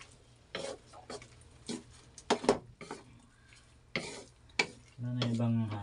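A spatula stirs bitter melon and egg in a frying pan, giving a series of separate scraping strokes, then a steady close sizzle takes over at the end.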